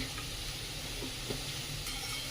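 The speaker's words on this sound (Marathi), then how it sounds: "आता हे सर्व साहित्य व्यवस्थित परतून घ्यायचंय।" Chopped carrot and other vegetables sautéing in a pan for mushroom rice, giving a steady, close hiss of sizzling with a few faint scrapes of stirring, and no voices.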